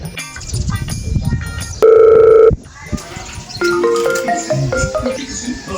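A telephone call is placed: a loud steady tone holds for under a second, then a run of stepped electronic beeps and ringing tones follows, with people talking around it.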